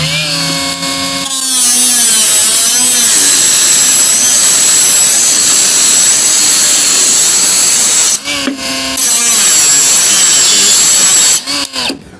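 Loud, high-pitched whine of a Heimerdinger LB201 mini angle grinder cutting through aluminum profile, a steady abrasive screech with brief breaks as the disc lifts off.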